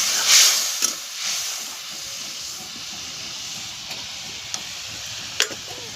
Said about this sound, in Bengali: জল দিয়ে ভালো করে কষাচ্ছি